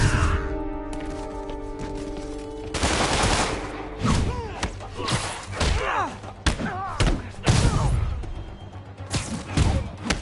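Enemy gunfire crackles in a Spider-Man game, several sharp shots and thuds in irregular bursts following a sustained tonal intro, loud and close, with brief voices and impacts mixed in.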